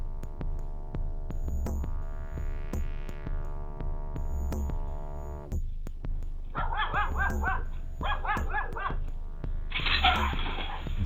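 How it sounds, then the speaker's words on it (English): A Doberman barks in bursts over a steady low hum; the loud, rough barks cluster in the second half, following a tonal drone, with no talking. "Drawn by the sound of barking"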